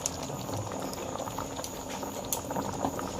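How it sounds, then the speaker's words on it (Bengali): Chana masala gravy with cashew paste boiling in a pot, a soft continuous bubbling with faint irregular pops and plops, close and quiet with no talk. "দেখো এটা ফুটে গেছে।"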